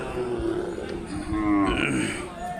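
A bullock lows faintly amid cattle market murmur, a drawn-out bovine call rising briefly over the background chatter.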